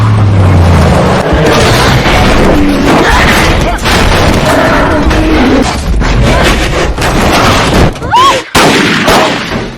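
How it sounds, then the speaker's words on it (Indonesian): Several loud, booming gunshots ring out at a bull in quick, irregular succession, each blast sharp and close amid general commotion and shouting. "terdengar beberapa kali suara letusan tembakan yang membuat banteng tersebut mati"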